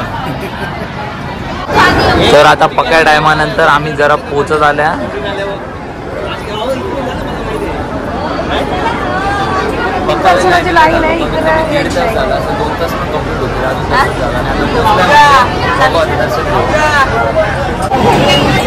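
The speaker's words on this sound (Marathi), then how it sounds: "खूप सारी गर्दीच गर्दी आहे इकडं" Dense crowd hubbub at a crowded Hindu temple during a family darshan visit, a continuous babble of many voices with close talking and some chanting over it throughout.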